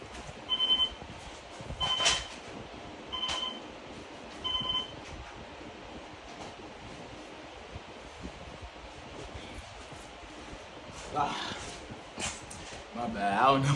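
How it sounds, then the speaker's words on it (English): An electronic alarm gives short, repeated high beeps at regular intervals over the first few seconds, fairly quiet under faint room noise, followed by a stretch of muffled background sound. "I don't know what happened with this alarm."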